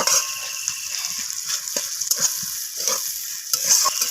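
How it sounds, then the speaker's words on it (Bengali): Onion and tomato sizzle in a pan while a spatula scrapes and stirs in short, irregular strokes, close and fairly loud. "টমেটোটাকে একটু ভেজে নেব পেঁয়াজের সাথে নরম হওয়া পর্যন্ত"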